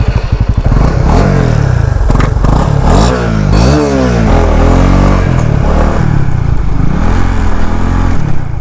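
A Honda CB 150R Exmotion naked motorcycle engine revs loudly up and down close by as the ride begins, with rising and falling throttle sweeps and a rumbling idle.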